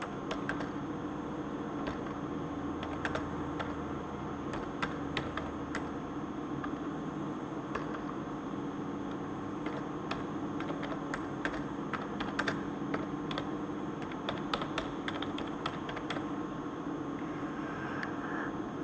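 Keys clack on a computer keyboard while C code is written, irregular light taps in quick runs with brief pauses over a faint steady background hum.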